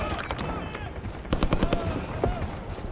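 Rapid gunshots and machine-gun bursts in the video game Call of Duty: Black Ops 6 pop over a rumbling backdrop, with people talking through the shooting.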